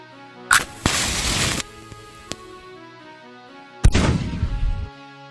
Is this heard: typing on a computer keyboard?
no